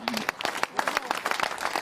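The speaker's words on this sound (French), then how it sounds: "je voudrais qu'on t'applaudisse encore" Short burst of applause from a gathering at a tennis club event in Limours, sharp individual claps close by, slightly uneven rhythm, with a voice over it.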